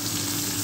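An egg frying in a hot pan for fried rice gives a brief, close, continuous sizzle and crackle.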